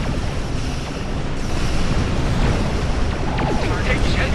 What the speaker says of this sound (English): Take heavy fire